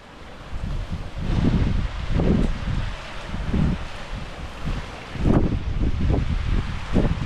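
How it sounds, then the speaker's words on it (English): Strong wind buffets a Scottish mountainside in heavy, uneven low gusts that roar and ease in waves, loud and close against the microphone, with no voices. "the wind's far too strong to make it over to the top"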